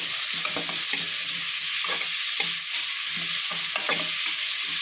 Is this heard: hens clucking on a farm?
no